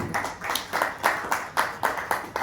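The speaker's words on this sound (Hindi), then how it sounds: "अकेले ताली बजाने से हम खुश नहीं होंगे" An audience at a Hindi religious discourse claps in unison, around nine evenly spaced, crisp claps in a steady rhythm, fairly close and moderately loud.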